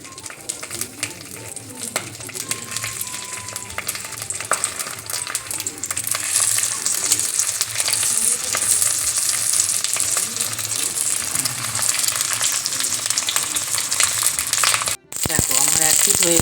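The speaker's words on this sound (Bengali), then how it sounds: "এবার আমি এগুলো একটুখানি ফ্রাই করে নেবো। দেখো খুব অল্প তেলে ফ্রাই হবে এটা।" Cabbage momo frying in a small amount of oil, a continuous crackling sizzle with scraping stirs and clinks of utensils, growing louder and brighter partway through, close up with no talk.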